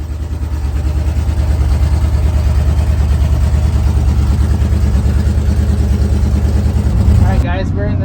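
A Chevy Nova drag race car's engine runs at the track with a loud, lumpy rumble that holds steady throughout, while voices can be heard over it and a few sharp sounds come right at the end.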